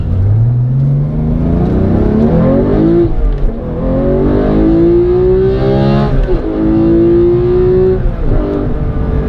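A Porsche 991.2 GT3 with a manual gearbox and open exhaust revs hard toward 9,000 rpm on country roads. Loud, close engine note climbs repeatedly in pitch through several pulls and shifts, with no talking.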